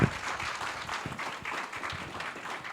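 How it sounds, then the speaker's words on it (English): Applause from a live audience at an event announcing a small business relief fund, steady clapping filling the space for a few seconds, loud and dense throughout. "how about a big round of applause from a bunch of you"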